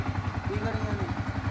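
A motorcycle engine idles with a low, steady throbbing pulse close by, partly under people talking.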